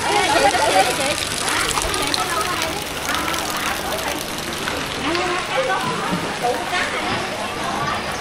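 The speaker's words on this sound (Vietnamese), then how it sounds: "Mưa lớn quá." Heavy rain pours steadily in an outdoor market town in the Mekong Delta, a dense, continuous hiss and patter on surfaces that fills the whole clip, with faint voices underneath.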